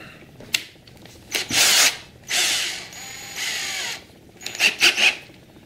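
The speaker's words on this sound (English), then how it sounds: "Let me go get my drill." A power drill whirs in several short bursts of varying length, with brief pauses and clicks between them, close and fairly loud, during the teardown of a Defiant LED light.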